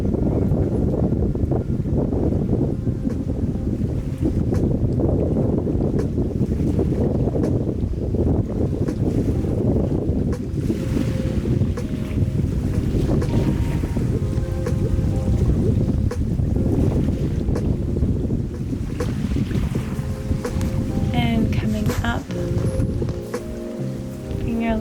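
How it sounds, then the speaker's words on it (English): Wind and surf at a beach on a cooler, windy day, a continuous loud roar of breaking waves mixed with heavy microphone wind buffeting and no speech. "listen to the waves."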